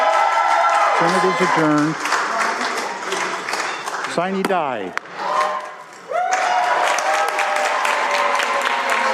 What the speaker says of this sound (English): Well, a lot of cheering there